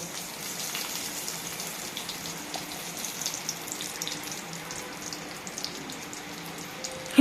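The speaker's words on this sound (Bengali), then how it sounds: "কড়াইতে তেল গরম হয়ে গেছে বন্ধুরা। এবার আমি দেব শুকনো লঙ্কা আর কালো জিরে।" Dried red chillies and black cumin sizzle steadily in hot oil in a kadai, a soft, even crackling hiss that continues throughout without talk.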